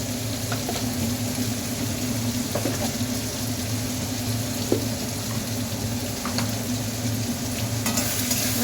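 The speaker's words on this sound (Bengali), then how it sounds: "এবার মশলাটা একটু কষে নেবো" Potato curry masala of ground coriander and chili powders frying in a pan while being stirred, a steady close sizzle with soft scraping strokes throughout, no talking.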